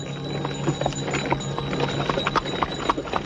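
Horse hooves clip-clop steadily at close range in a night street scene from a 1988 Indonesian film, the rhythmic clopping holding throughout over a low continuous hum.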